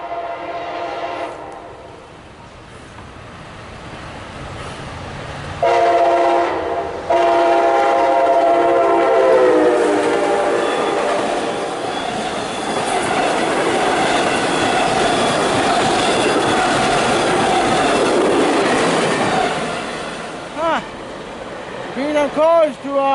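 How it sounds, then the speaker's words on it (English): A MARC commuter train passes close by, loud and sustained, with horn blasts, rumbling cars and rail clatter building and then fading, while people talk over it. "No, it's a Marc train."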